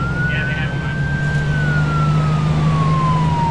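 A video game police siren wails in a single slow falling tone over a steady vehicle engine drone during a cop chase, loud and close.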